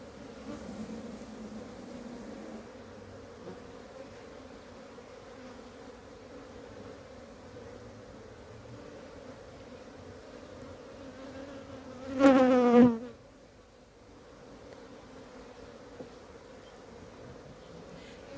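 Honey bees buzz in a brood box, a soft steady hum from many insects close by, with one bee flying near and briefly rising louder before fading back.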